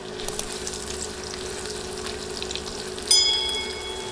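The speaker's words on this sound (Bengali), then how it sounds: "নেড়ে নেড়ে পেঁয়াজ নরম হয়ে আসা পর্যন্ত ভেজে নিব।" Sliced onions fry in hot oil with whole spices, a steady close sizzle running throughout, swelling louder and brighter near the end as the pan is stirred.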